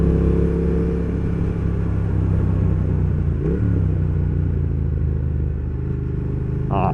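A Triumph Thruxton R motorcycle rides along a country road with its engine droning loud and steady, a low rumble carrying wind noise and a brief change in engine note midway.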